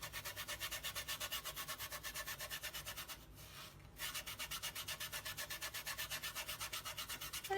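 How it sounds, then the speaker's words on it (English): Firm, rhythmic rubbing strokes as microfine glitter is burnished onto a card under heavy hand pressure, a steady close scrubbing that pauses briefly midway and then resumes. "So I'll just go ahead and burnish this. I'm pressing it pretty hard."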